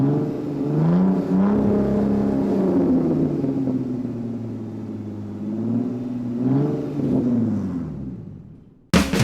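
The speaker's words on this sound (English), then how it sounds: "Here we found a 2005 Bentley Continental GT." Engine of a 2005 Bentley Continental GT running close by, a steady deep rumble with two swelling revs that rise and settle, ending in a brief sharp knock.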